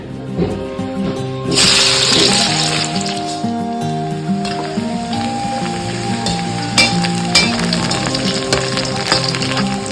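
Whole cumin, coriander seeds and dried fenugreek fry in a kadhai with a steady, close sizzle that swells after the first couple of seconds and keeps crackling under background music.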